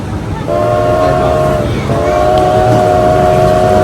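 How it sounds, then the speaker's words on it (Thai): A small train sounds its whistle in long sustained chords over a low mechanical rumble, with a brief break before the tone resumes. "อันนี้รถไฟที่เรา ผ่านเมื่อกี้นี้นะคะ"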